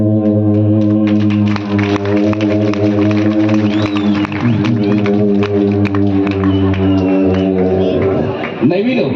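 A voice imitating the drone of an airplane flying far away: a steady, loud, sustained hum held for about nine seconds, wavering slightly near the end.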